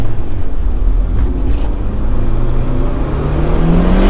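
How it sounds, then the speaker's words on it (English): A turbocharged Honda Civic roars under boost during street driving, its loud, close engine note droning steadily as the pitch climbs gradually throughout. "I love the sound of turbo"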